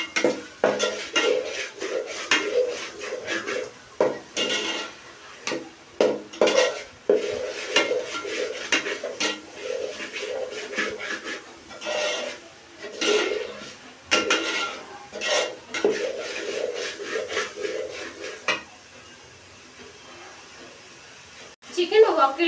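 A spoon stirs chicken curry masala in a cooking pan, producing repeated scraping and clinking of utensil against metal in an irregular rhythm, fairly close and moderately loud throughout.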